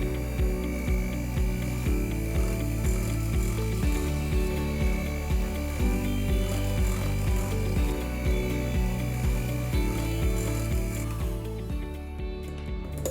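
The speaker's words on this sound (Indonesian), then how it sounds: "Oke, kita akan mixer ya sampai dia halus." An electric mixer blends pastry cream with whipped cream into a smooth filling for matcha bread, giving a loud, continuous mechanical whir with a rapid rhythmic chatter that holds steady before easing off near the end.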